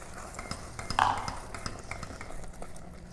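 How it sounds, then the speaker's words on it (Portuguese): A spoon is stirred through jam in a pan on the stove, soft scraping strokes with one brighter clink of metal partway through, close and fairly quiet. "eu passo a colher no meio, já não tem mais tanto líquido"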